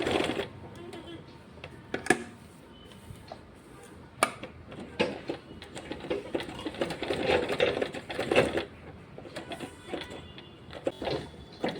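A sewing machine stitches frock coat fabric in short uneven bursts, with sharp clicks and pauses between runs, heard up close.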